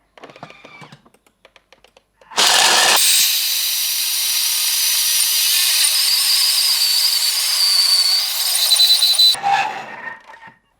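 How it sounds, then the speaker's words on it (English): A Thermomix blends peanuts into peanut butter at high speed, a loud, steady whirring roar of about seven seconds that starts abruptly and cuts off, with brief quiet rustling before and after. "just whiz up the peanuts for 30 seconds on speed 7"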